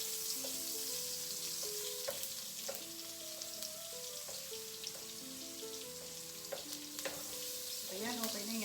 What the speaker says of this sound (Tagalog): I-melt lang natin yung ating butter.